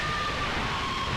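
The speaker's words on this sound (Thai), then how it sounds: "เสียงโคตรดังครับไซเรนเหรอ" A loud, steady siren wail in the Roblox game Apeirophobia blares continuously, filling the whole stretch with a constant electronic tone over a dense noisy background.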